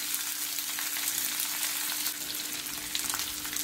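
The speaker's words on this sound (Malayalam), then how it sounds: "ഈ സവാളയൊക്കെ ഒന്ന് സോഫ്റ്റ് ആകുന്നിടം വരെ ഒന്ന് വഴട്ടാം." Chopped onions and crushed garlic fry in a pan, giving a steady close-up sizzle with faint scraping of stirring and no voices, fairly quiet throughout.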